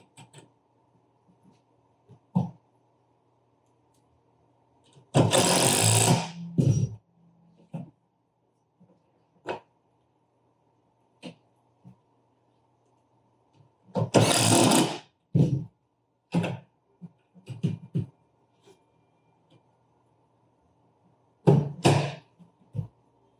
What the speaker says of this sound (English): And this is going to be our 5/16 driver.